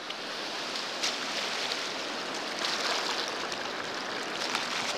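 Ocean waves at Ocean Shores make a steady broadband wash of surf, continuous and fairly even, with slight swells in loudness as breakers roll in.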